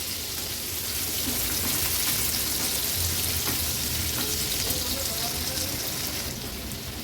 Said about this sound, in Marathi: कांदा तेलावर व्यवस्थित परतून घ्यायचा आहे.